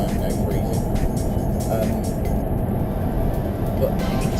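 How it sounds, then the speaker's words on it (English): Steady, loud road roar fills the cabin of a Mazda 6 cruising on a motorway, a constant low rumble of tyres and wind with no break. "I am getting a lot of road noise from outside"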